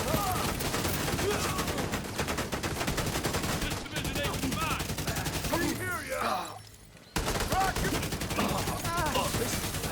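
Rapid turret gunfire in a video game, dense bursts of automatic shots with a brief lull and a short gap before the firing resumes.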